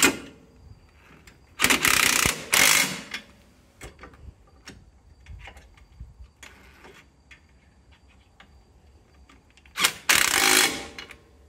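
A ratchet tightens bolts in a star pattern while a Talon 8-inch portal is installed outdoors in the dark, giving loud bursts of rapid clicking near the start and end, with quieter taps and ticks between.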